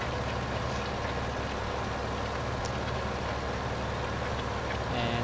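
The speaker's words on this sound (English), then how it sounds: "And this is our tractor with the seeder." A tractor engine with a seeder attached idles steadily in Farming Simulator 2015, a constant low rumble with broadband mechanical noise and no talking.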